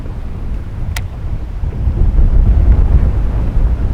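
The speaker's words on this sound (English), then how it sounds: "It's so windy." Strong wind roars across a creek during a boat fishing trip, buffeting the microphone with a deep rumbling gust that builds and grows louder through the second half, with no voices.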